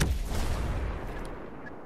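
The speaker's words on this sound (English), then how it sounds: "Is that grenade by you?" A grenade blast in the shooter game Tom Clancy's Breakpoint lands as a heavy, booming explosion right at the start, its low rumble fading out over the next second or two.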